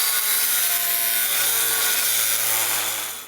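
Metal on a 1941 Mercury chassis is cut with a power tool in one steady, loud, gritty grinding run of a few seconds that fades slightly at the end.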